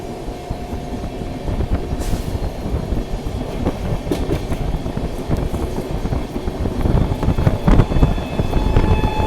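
A special train running between Mumbai Lokmanya Tilak Terminal and Katihar rumbles past close by, a steady heavy roar of wagons with rattling clatter that swells louder toward the end, with no voices.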